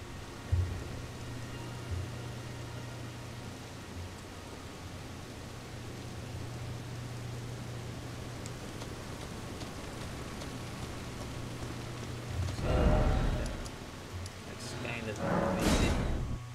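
Rain falls steadily in the video game Elden Ring, a soft, even hiss running throughout under a low hum, with two louder whooshing swells toward the end; a voice speaks faintly over it.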